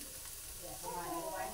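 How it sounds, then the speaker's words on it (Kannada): A small apple and rice-flour pancake sizzles in ghee on a hot pan, a steady close hiss that swells slightly louder partway through. "ಇದೇ ಥರ ಎಲ್ಲದನ್ನು ನಾನು ರೋಸ್ಟ್ ಮಾಡ್ಕೊತೀನಿ ತುಪ್ಪ ಹಾಕ್ಬಿಟ್ಟು"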